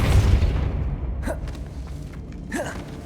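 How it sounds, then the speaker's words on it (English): A Depulso spell cast in Hogwarts Legacy lands with a heavy low boom at the start that rumbles away, and two short breathy gasp-like effects follow in the game audio. "Depulso."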